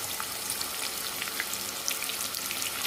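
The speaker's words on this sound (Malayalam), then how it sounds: "അതിലേക്ക് നമുക്ക് ചിക്കൻ കഷ്ണങ്ങൾ ഇട്ട് ഫ്രൈ ചെയ്തെടുക്കാം" Marinated chicken pieces frying in oil over a medium flame, a dense, steady sizzle with crackling pops, loud and close, with no voices.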